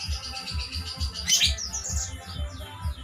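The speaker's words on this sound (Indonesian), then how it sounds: "ini burung kolibri" A sunbird, known locally as kolibri kelapa or kolibri manggar, gives faint, quick high chirps and twittering over a low, steady rhythmic thumping.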